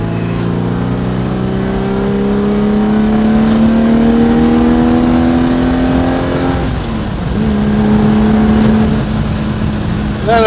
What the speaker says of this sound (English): And then if you want some power, third gear, stand on it.